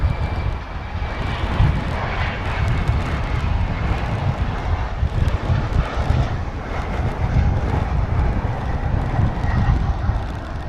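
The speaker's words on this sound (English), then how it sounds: "That Atlas Air flight was coming in from Louisville." Atlas Air cargo jet arriving at DFW from Louisville, a loud steady roar of jet engines rumbling low and constant with wind buffeting, no talk.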